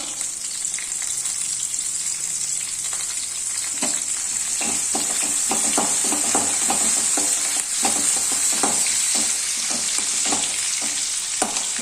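Steady, close sizzling of curry leaves frying in hot oil, with a dense crackle and scattered pops throughout and no talking.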